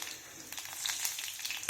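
Mustard seeds, fenugreek, pepper and cumin sizzle steadily in hot oil for a South Indian tempering, a close, bright, continuous crackle that swells slightly and pops at the end.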